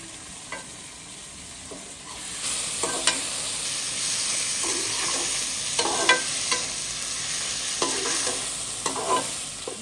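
Spiced masala for eggplant sizzles steadily in a hot pan while a spoon scrapes and stirs in repeated strokes, the frying growing louder after the first couple of seconds.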